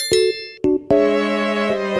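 A bright notification bell chime rings three times, each ding a clear metallic tone, the last one sustaining and ringing out with no voices over it.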